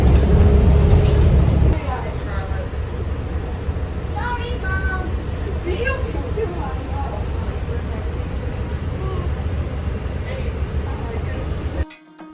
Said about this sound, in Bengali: এখানে বাসেতে একটু আওয়াজ হচ্ছে